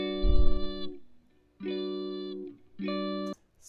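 Three sustained synth chords, each held about a second with short gaps between, clean and dry with no reverb, preceded by a brief low thump.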